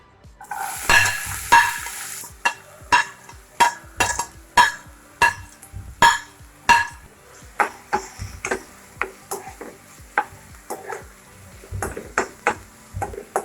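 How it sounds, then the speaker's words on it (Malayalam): Onions sautéing in hot oil in a pan, a steady sizzle broken by a regular series of sharp ticks and scrapes from stirring, close and fairly loud with no voices. "ഇതിലേക്ക് നമുക്ക് ആദ്യം നമ്മുടെ സവാള ഇട്ട് നന്നായിട്ടൊന്ന് വഴറ്റിയെടുക്കാം"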